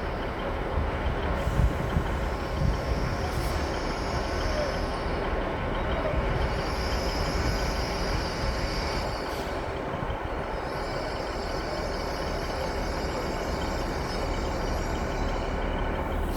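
A train pulls in to platform 2 at Blaydon station with a steady, loud rolling rumble, a high wheel squeal that comes and goes, and a few faint clunks.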